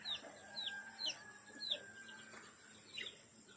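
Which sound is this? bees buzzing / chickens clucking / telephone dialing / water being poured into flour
chickens clucking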